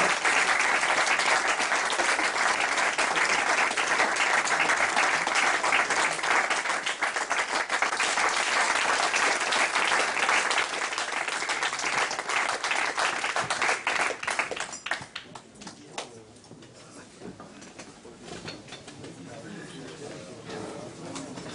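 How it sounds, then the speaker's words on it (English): A conference audience at a startup event in Vienna gives a speaker a long, dense round of applause. The clapping runs loud and steady, then thins out into scattered claps. "let's give Oliver a big round of applause"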